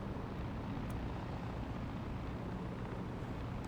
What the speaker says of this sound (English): Somebody's in a helicopter down here, aren't they?